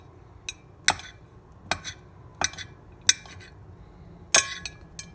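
A knife chops boiled eggs on a board for egg salad, giving six or seven sharp clicking taps at an uneven pace, close and clear with no talking.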